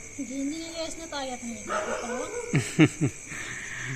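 A dog gives three quick, sharp barks close by, mixed in with people talking.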